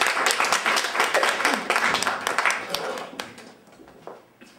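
An audience at a campaign event claps, dense rapid clapping that thins out and fades toward the end of the stretch.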